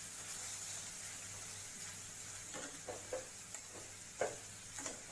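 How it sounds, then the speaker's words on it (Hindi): Carrot halwa is stirred in a pan over a low gas flame, with faint, scattered scraping strokes over a quiet, even sizzle. "अब इसको हम अच्छे से मिक्स करेंगे वापस।"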